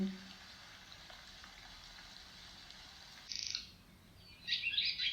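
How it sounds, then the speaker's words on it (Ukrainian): Faint high swallow chirps come in two short bursts, one brief and one slightly longer, against a soft steady hiss of background noise. "спів ластівки."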